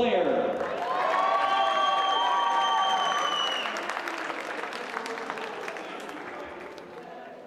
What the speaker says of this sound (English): please give another round of applause for your Lynx of Lindenwood